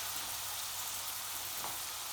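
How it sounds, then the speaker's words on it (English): Onions cooking in a pan for a spicy chicken and potato curry give off a soft, even sizzle that stays quiet and steady throughout, with no voices. "we're going to cook until the onions have gone soft"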